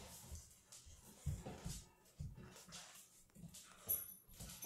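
Soft, faint whimpers and small whines from a 15-week-old puppy come in short repeated bursts, close by and otherwise quiet.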